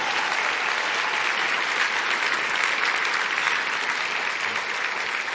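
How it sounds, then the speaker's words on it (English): A large audience at a State of the City event claps loudly and continuously for the Waubonsie Valley Cloud 9 performing group, a dense, close wash of applause with no talking. "Let's have another round of applause for the Waubonsie Valley's Cloud 9 group."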